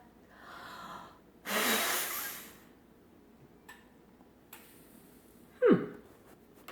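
Someone blows hard in one strong, sustained breath at a cotton ball during a wind experiment, followed by softer breathy sounds and a brief vocal noise.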